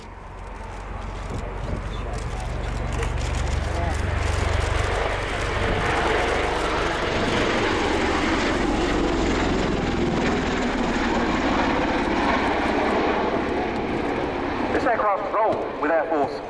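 A USAF CV-22 Osprey tiltrotor at an air show runs its engines after landing, a loud, close, sustained rotor and engine roar that holds steady, with pulsing blade chop near the end.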